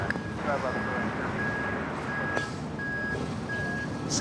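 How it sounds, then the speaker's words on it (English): A live truck's reversing alarm beeps in a steady repeating rhythm near an airport, under constant low traffic rumble with distant voices in the background. "Sounds like a live truck backing up."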